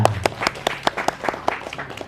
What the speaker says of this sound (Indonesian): Kita tepuk tangan rumiyin